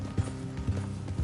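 Horse hooves clip-clop in a steady rhythm on a road in the video game Red Dead Redemption 2, several distinct close footfalls over a low background.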